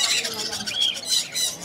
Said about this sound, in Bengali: এই বাজিগারটা কিন্তু কথা শুনতে চাচ্ছেন তো?